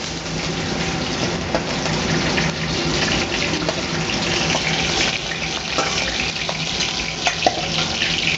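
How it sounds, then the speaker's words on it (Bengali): Water poured into a hot pan of fried fish for a Bengali green tomato fish curry, a steady hissing sizzle and rushing splash that runs continuously at moderate level with faint clinks. "এই যে জলটা দিয়ে দিচ্ছে মা এখানে।"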